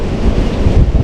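Strong wind on Cotopaxi volcano buffets the microphone in a loud, low, rumbling roar that fills the short moment without any voices.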